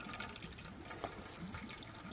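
Creek water trickles and gurgles as it is drawn into a Sawyer filter bag in a forest, a steady low watery wash throughout with a few faint drips, close and quiet.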